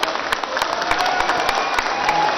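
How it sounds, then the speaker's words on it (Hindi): Audience at a Patanjali Yogpeeth foundation day event clapping loudly for Guruji, dense sustained applause with individual sharp claps standing out. "जोर से गुरुजी के लिए एक बार जोर से ताली"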